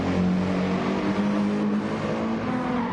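Porsche 997 race car engine droning at the Nürburgring 24 Hours, a steady, sustained roar of a car at speed with faint tire noise and no speech.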